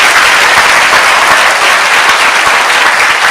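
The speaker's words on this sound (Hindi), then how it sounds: "Give a good clap for Jesus." A church congregation claps together during worship, a dense, steady roar of applause that stays loud and even for its whole length, with no voices standing out above it.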